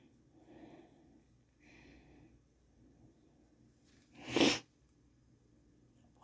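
A single loud sneeze from a person with a runny nose bursts out sharply near the close, preceded by a few faint sniffles and soft breathing in a quiet room.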